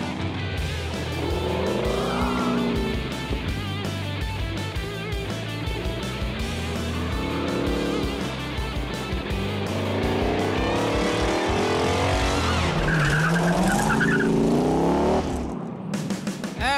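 Restored 1970 Dodge Challenger R/T cornering on a course, engine roaring steadily with rising and falling revs, tires squealing through the turns, loud and close throughout.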